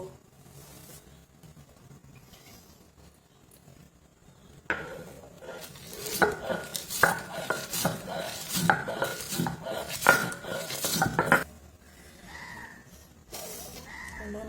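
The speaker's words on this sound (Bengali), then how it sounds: "আমি এখন মরিচটা লবণ দিয়ে পরিমাণ মতো লবণ দিয়ে বেটে নিব" Chillies and salt being ground on a grinding stone: after a quiet start, rhythmic rasping strokes of stone on stone repeat steadily for several seconds, then stop.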